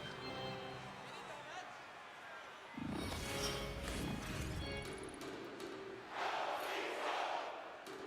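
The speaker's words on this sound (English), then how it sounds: "The fans are still cheering for the Leafs" Arena crowd of hockey fans cheering for the Leafs in NHL 24, a broad sustained roar that swells loudly around the middle and again near the end, with game sounds and commentary running underneath.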